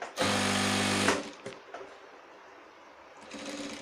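A sewing machine runs a short tack stitch on a shirt in one quick burst of about a second, followed by soft handling noises and a faint second start near the end.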